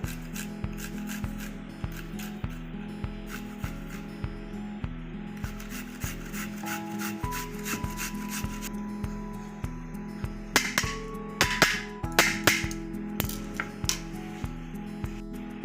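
Garlic cloves and a piece of ginger are rubbed on a grater in a home kitchen, giving a steady run of close, rhythmic rasping strokes that grow louder and scratchier toward the end, with no speech.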